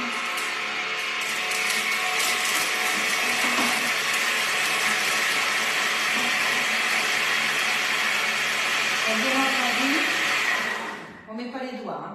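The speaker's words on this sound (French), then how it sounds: "j'ai jeté directement sur les couteaux en marche" A Thermomix TM6 chopping aromatic herbs at speed 7, a loud and steady whirring motor roar that holds for about eleven seconds, then stops abruptly, leaving light clatter and a voice afterward.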